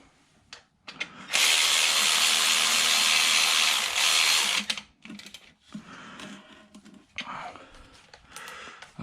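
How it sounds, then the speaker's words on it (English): A ratchet fitted with a 13 mm socket works a bolt on a Jeep Wrangler JKU 3.6 during a serpentine belt job: a loud, steady burst of rapid clicking for a few seconds, then scattered softer taps and scrapes. "The 13 I need is on the ratchet. That's for that bottom one."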